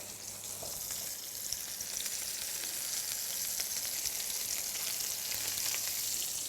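A cheese-stuffed beef steak frying in a non-stick pan gives a steady, bright sizzle that holds at an even level throughout, with faint occasional crackles and no voices.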